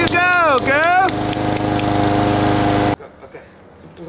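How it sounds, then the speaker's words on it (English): Lawn mower engine roaring loudly and close for about three seconds, with a voice rising and falling over it early on, then cutting off abruptly to quiet. "we're gonna start lawnmower again"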